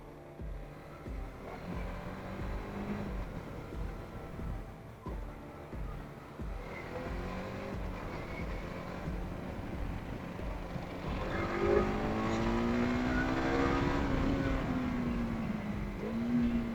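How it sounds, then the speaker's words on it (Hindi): A TVS Apache RTX 300 motorcycle rides along with a rumbling engine and rushing wind, then revs hard toward the end, its engine note climbing loudly in pitch as it accelerates. "ये बाइक के हिसाब से दिस इज परफेक्ट एक्सेलरेशन"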